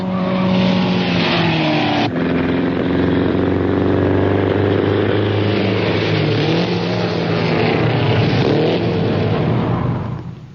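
Several 1914 Mercedes racing cars roar through the field in a Grand Prix motor race, loud continuous engine drone with shifting pitch and a brief gearchange around two seconds in, sustained throughout before fading at the end.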